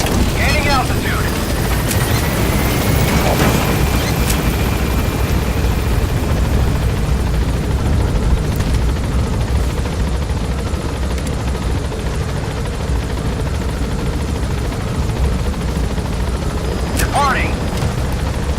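A helicopter in a video game lifts off from a landing zone and climbs, its steady rotor roar loud and continuous throughout, with a few brief radio-style voice callouts over it.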